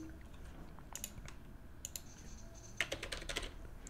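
Keys clatter on a computer keyboard in quick, uneven bursts, with a denser flurry of clicks near the end, set against a faint, low background hum.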